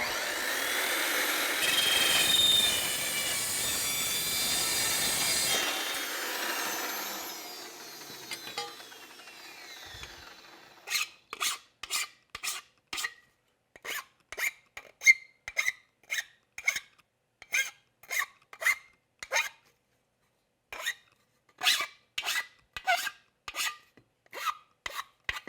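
A clamped part being cut by hand with a saw, first a rough continuous rasp, then a quiet pause, followed by a long run of distinct, evenly spaced back-and-forth strokes, close and clear.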